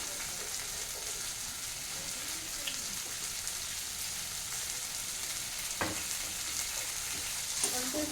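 Spices for a thin home-style Bengali fish curry fry in a little olive oil, sizzling and crackling softly and continuously, with a few louder spits now and then.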